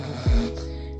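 A voice imitates a snore, making a short, low throaty rattle as a growl-like exercise toward flutter tonguing, one brief burst followed by a fading hum.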